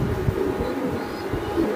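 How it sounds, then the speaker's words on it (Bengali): A racer pigeon coos close by in soft, low, throaty murmurs that roll on almost continuously, with a few louder pulses rising out of the steady burble. "এটা একটা রেসার কবুতর, বাট হচ্ছে নর্মাল ইয়ের"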